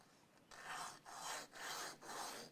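Repeated rasping strokes of a metal file flattening a grub screw on a Strat-style guitar bridge, four steady back-and-forth passes with brief pauses between, close and fairly quiet with no talk.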